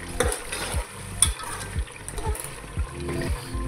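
Chicken pieces stirred with biryani masala in a pan for chicken pulao, giving soft repeated scraping strokes over a low sizzle, close and steady, with no talking.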